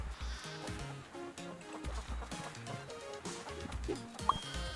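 A goat bleats in the video game Moving Out 2, a short bleating cry among busy, bouncy game music and effects.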